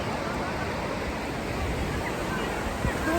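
Steady, loud surf rolls on Juhu beach in Mumbai, a continuous wash of breaking waves with no pause, heard up close and alone.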